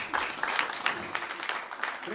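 Audience applause at a stage performance, scattered rhythmic clapping at moderate volume, fairly close and somewhat thin, with a bit of voice mixed in.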